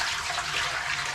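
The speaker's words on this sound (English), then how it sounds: "I just dump the water out in the sink and try not to make a" Water from a hydroponic tomato plant's tray is poured into a kitchen sink, a steady close splashing rush with no talk over it.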